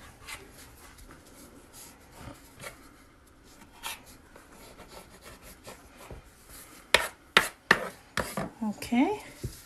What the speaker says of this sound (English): I'm just going to cut the edges.